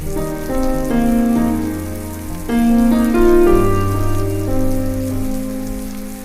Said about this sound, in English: Rain's getting a little loud.